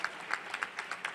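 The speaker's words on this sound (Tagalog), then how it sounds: "Palakpakan muna natin ang malakas na palakpak ang ating mahal na Panginoon." Sparse, light hand claps from a church congregation during a preaching service, a handful of separate claps spread across a brief moment rather than a full ovation.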